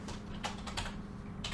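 Quick, light keystrokes on a computer keyboard tap out text in a soft, irregular patter, close by and fairly quiet.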